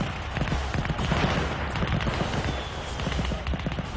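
A Maxim heavy machine gun fires in a dense, continuous rattle of rapid shots, loud and unbroken, like a sustained German battlefield barrage.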